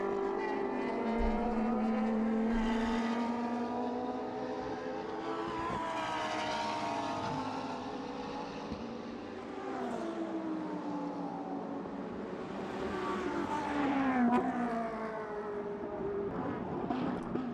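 Race cars including a Ferrari and a Lamborghini howl around the Inje circuit during a 2013 Asian Le Mans Series round, engines rising and falling as they pass, loud and continuous with no talk.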